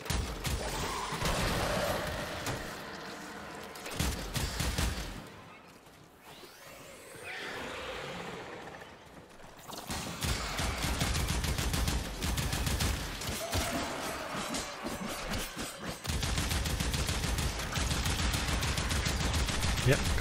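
Sustained game gunfire from Warframe during a boss assassination fight, dense bursts of shots over music and effects, dropping out briefly in the middle before resuming just as heavy, with a voice talking over it.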